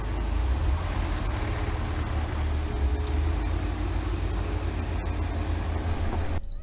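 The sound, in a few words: Ford EcoSport SUVs off-roading through mud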